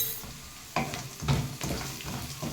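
Onions frying in a pan with turmeric added, a steady close sizzle broken by a few stirring scrapes and clatters, no voices.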